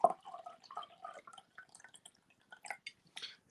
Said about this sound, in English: Sorry about the water sound.